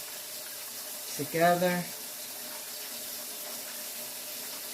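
Tap water pours into a cooking pot for about a second, a brief gurgling splash as the pot is filled partway for stuffed cabbage with beef and rice, with a word spoken over it and quiet room tone after.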